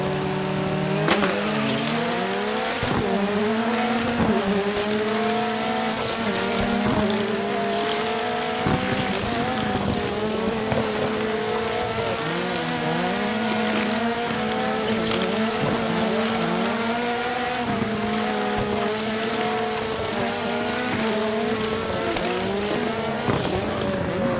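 Motorized diecast toy cars race side by side around a track, their small electric motors giving a loud, continuous high whine with rising and falling pitch that runs through the whole lap.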